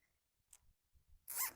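A plastic zip tie is pulled tight on a wire crate being turned into a quail cage, a quick ratcheting zip close by, preceded by faint clicks and handling taps.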